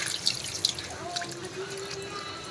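Water trickles and drips onto the base of a potted plant on a balcony, a close, uneven splashing with a few brighter drops and a low voice faintly underneath.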